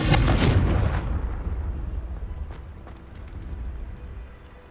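A Confringo spell explosion in Hogwarts Legacy bursts with a loud, close blast that rolls into a fading, rumbling tail and a few faint crackles.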